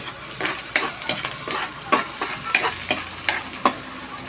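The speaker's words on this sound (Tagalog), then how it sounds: "Maglagay tayo ng konting mantika. Lagay natin yung ating sibuyas. Lagay natin yung ating bawang." Onion and garlic frying in a little oil, a soft steady sizzle punctuated by about a dozen sharp scrapes and taps of stirring, close and with no voices.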